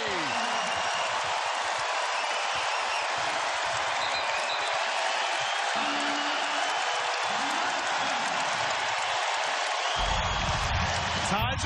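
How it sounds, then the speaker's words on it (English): A college basketball arena crowd roars and applauds after a Virginia three-pointer, a loud, dense, unbroken wall of cheering that holds for the whole stretch before dropping off near the end. "Ty Jerome excites the crowd at the JPJ."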